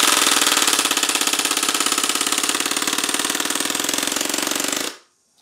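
A Tactical Force TF11 Mac11 CO2 airsoft gun fires a rapid full-auto burst, dumping its CO2 in a loud, fast, even buzz of shots that runs for about five seconds and then cuts off abruptly.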